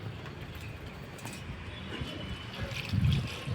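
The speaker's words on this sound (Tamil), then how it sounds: "தண்ணி ஊற்றுறாங்க." Water poured into a planting hole dug for a rose plant outdoors, a soft, uneven splashing and trickling that grows a little louder toward the end.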